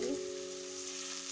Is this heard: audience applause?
no